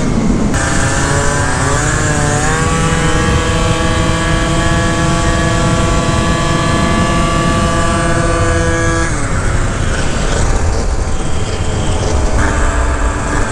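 Freshly built 72cc Honda Elite Dio scooter ridden hard on the street, a loud, close two-stroke buzz rising in pitch as it accelerates, holding high revs, then dropping and climbing again, with wind noise and no talking.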